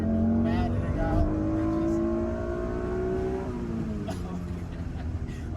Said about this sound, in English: Having that naturally aspirated V6 growl, like it sounds so good